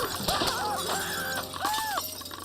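Glass shattering in a Happy Tree Friends cartoon: a sharp burst of breaking glass followed by tinkling fragments and ringing tones, fairly quiet and short.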